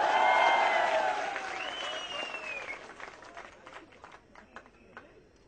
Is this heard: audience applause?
yes